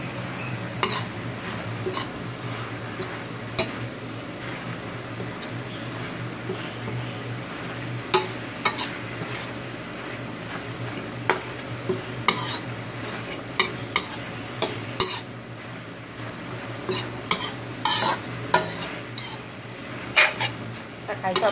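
Minced pork and holy basil stir-fried in a pan with a little liquid, a steady sizzle running throughout while a spatula scrapes and clanks against the metal in irregular bursts.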